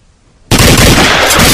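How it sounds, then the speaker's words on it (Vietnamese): Sudden loud burst of gunfire sound effect in a Vietnamese audio drama, starting abruptly after near silence and continuing as dense, sustained noise like rapid shooting. "Súng của đối phương cũng nhằm tới, đạn nổ liên tục."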